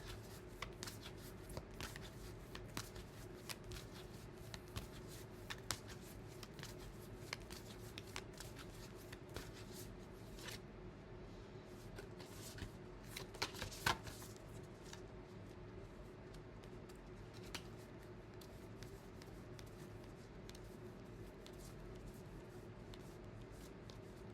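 Tarot cards are shuffled by hand in a quiet room, giving a soft, continuous riffling and brushing with small sharper flicks, close and steady, with no talking.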